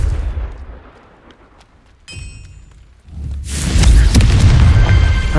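A Confringo fire spell explodes in the Hogwarts Legacy video game, with a sudden loud boom followed by a heavy, sustained rumbling roar that fills the scene.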